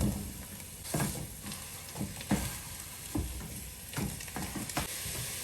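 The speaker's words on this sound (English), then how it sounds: "we are going to add the rest of our sausage from earlier today. And get that nice and browned up." Sausage and onions sizzle while browning in a pan, a steady hiss of frying punctuated by scrapes and clacks as the food is stirred and turned, close up and without speech.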